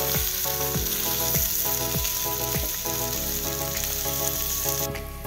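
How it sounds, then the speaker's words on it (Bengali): Chicken with salt and turmeric frying in a pan, a loud continuous sizzle with repeated rhythmic scraping strokes of a spoon as it is stirred and tossed, close up and without voices. "লবণ আর হলুদ গুঁড়োটা দিয়ে আবারও চিকেনের সঙ্গে আর অন্য অন্য উপকরণগুলোর সঙ্গে ভালো করে মিশিয়ে সামান্য সময় ধরে আমি একটু নেড়ে চেড়ে নেব"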